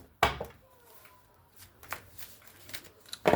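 Tarot cards being shuffled in a few quick riffling bursts, close by, with short pauses and soft handling sounds between them.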